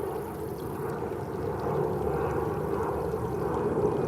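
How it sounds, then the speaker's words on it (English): Airplane flying overhead while someone rests by the water outdoors, a faint, steady low engine drone spread over the background. "and the airplane that's flying over my head."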